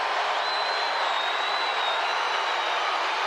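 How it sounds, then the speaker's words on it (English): Crowd noise in a basketball arena during a Indiana Fever vs Las Vegas Aces WNBA game, a continuous, fairly distant roar of many voices with a thin sustained whistle-like tone running through it. "Crowd making some noise."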